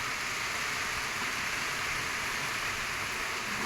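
Steady rain falls without pause, a dense, even hiss of drops on surfaces close by, with no voices or other sounds over it.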